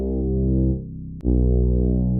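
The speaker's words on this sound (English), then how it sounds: "I've also added a distortion which enable that sounds like this." Distorted synth bass in a textured R&B sample, a sustained harsh tone with dense harmonics that dips briefly, cuts off, then swells back in loud and full.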